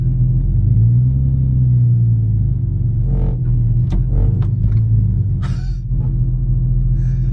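A straight-piped Porsche 911 engine idles steadily and close by with a deep, loud rumble, a continuous low growl with a few faint clicks and clunks over it.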